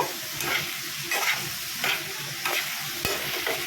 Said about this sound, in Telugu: ముక్కలు కొంచెం మెత్తగా ఉడకాలన్నమాట ఖచ్చితంగా ఐదు నిమిషాలు అయితే ఉడకబెట్టాల్సిందే ఫ్రెండ్స్ మళ్ళీ ఒకసారి కలుపుకున్నాము